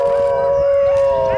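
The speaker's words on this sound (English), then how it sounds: "Wolf." A wolf gives one sustained, steady, loud howl at close range, holding a clear tone throughout with faint rustling beneath it.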